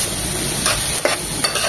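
A spoon stirs white sauce chicken pasta in a frying pan, giving soft scraping strokes with a gentle sizzle underneath. A few distinct stirring swipes stand out close up, and no one speaks.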